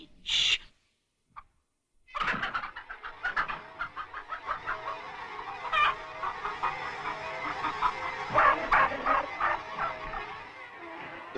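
Hens cluck and squawk in the animated film Animal Farm, an agitated flock chattering in quick bursts that swell into a busy, continuous clamor after a brief opening call and pause.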